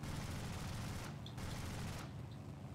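An aircraft's machine guns fire in War Thunder, a dense, continuous rattling stream at moderate distance, with two brief pauses breaking the steady chatter.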